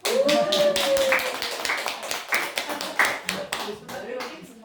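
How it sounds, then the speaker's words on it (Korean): Church congregation clapping during a Sunday morning worship service, a run of distinct hand claps with a preacher's voice talking over them. "우리 참 박수 한번 합시다"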